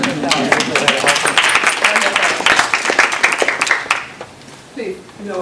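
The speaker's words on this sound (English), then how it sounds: "give yourself a round of applause" An audience at an MIT Enterprise Forum think tank session in New York gives a dense round of applause that lasts about four seconds, then fades as a voice resumes.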